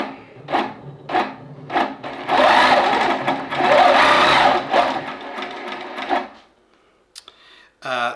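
A Pro-Stitcher computerized quilting machine stitches in a steady, close mechanical whir, starting with a few separate needle strokes, then running continuously for several seconds before it stops, followed by a couple of faint clicks.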